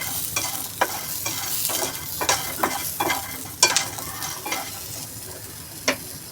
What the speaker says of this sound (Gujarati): એમાં આપણે લીમડાના પત્તા થોડા લઈ લઈશું અને મરચાંને બી એમાં સાંકળી નાખશું સાધારણ.